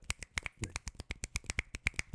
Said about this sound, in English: Can we get like some finger snaps